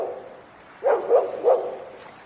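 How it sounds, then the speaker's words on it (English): A dog in The Lost Crown gives three quick barks in a row, moderately close and clear against a quiet background, with no talk. "Is that your dog?"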